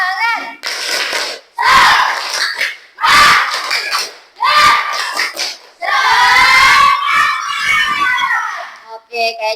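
A class of fifth-grade schoolchildren does an energetic clapping chant, bursts of rhythmic hand claps and loud unison shouting repeating in several short rounds, close and full, ending in a longer rising cheer.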